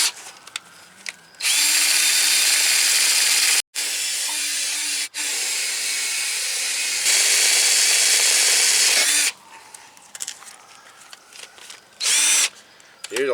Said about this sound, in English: So I use a polycarbide abrasive wheel on it.